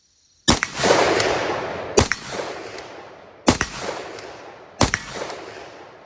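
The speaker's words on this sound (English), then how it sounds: "let's go ahead and take a few shots on steel. We're at probably about 50 yards" IWI Galil ACE Gen 2 rifle firing at steel targets about 50 yards away on an outdoor range, four sharp, evenly spaced loud shots, each with a short ringing tail.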